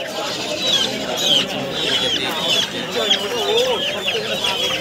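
Chickens of an unusual breed cluck and squawk close by at a busy animal and bird market in Nadia district, with overlapping calls throughout and people talking in the background.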